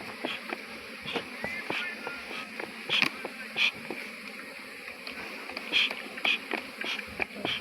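Bees buzz steadily around a honeycomb being shaken for honey in cold winter air, a dense continuous hum with sharper flickers of close insects passing, no speech over it.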